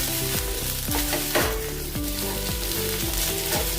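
Spices frying in a little oil for a spicy Panchratna chivda curry, a steady close sizzle with repeated scraping stir strokes against the pan, no voices.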